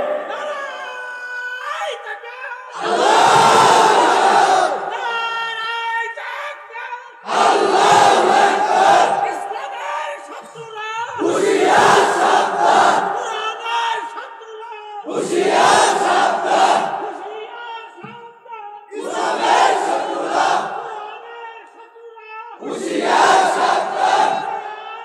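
At a mosque mahfil gathering, a large crowd shouts the takbir, Allahu Akbar, in five loud, roaring bursts with brief quieter gaps between them.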